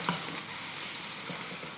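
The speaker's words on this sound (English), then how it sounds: "we're gonna go in with the beef in batches because I don't want it to overcrowd here" Beef sizzling and being stirred in a wok over an induction burner, a steady close frying hiss with scraping stir noises, no talk.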